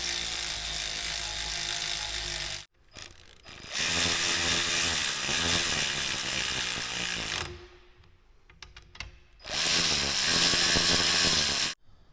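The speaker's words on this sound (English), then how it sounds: "Tucker's torquing the K-shafts to what, 23 Newton meters?" A ratcheting wrench torquing the K-shafts on a Ford ZF5 S5-42 transmission during a rebuild, heard as long bursts of rapid ratchet clicks alternating with quieter gaps and a few separate metallic ticks.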